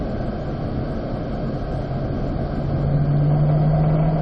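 A C8 Corvette on a warm-up lap at Spring Mountain's East Track on a sunny day, a loud, steady in-car engine drone that swells toward the end as a strong low tone climbs in.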